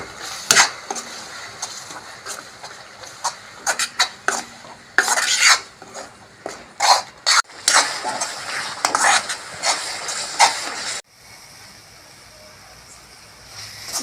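Ground masala paste being stirred into fried tomatoes in a pan for channa masala gravy, with repeated scraping and clattering of a spoon against the pan, fairly close and loud, settling into a quieter soft sizzle near the end.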